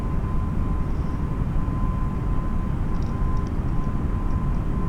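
Airbus airliner engines roaring steadily at takeoff in a flight simulator game, a loud continuous broadband rumble with a faint steady tone, heard alone with no speech.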